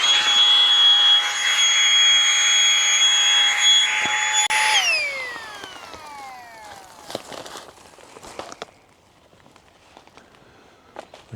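Tiny Peaks Motion mini electric pump sucking air out of a thick sleeping mat, a loud steady high-pitched whine that winds down after about five seconds, followed by faint handling clicks and rustles.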